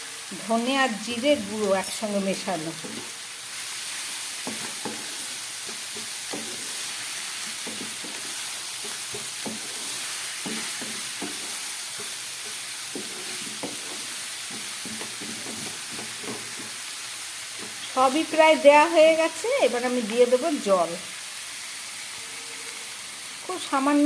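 Ginger paste and chopped tomato fry in a hot pan, giving a steady, close sizzling hiss with soft stirring scrapes throughout, while someone talks briefly at the start and again near the end.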